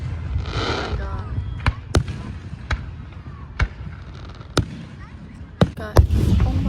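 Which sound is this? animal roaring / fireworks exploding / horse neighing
fireworks exploding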